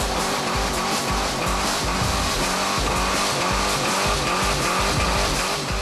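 Drag racing car at the Western Sydney International Dragway, a quarter-mile strip, roaring loud and close with a dense, steady engine blare and tire noise throughout.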